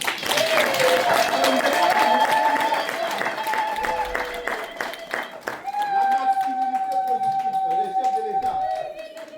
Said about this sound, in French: Est-ce qu'on peut applaudir les femmes?